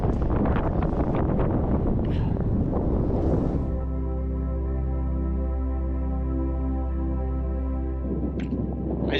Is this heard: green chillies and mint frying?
no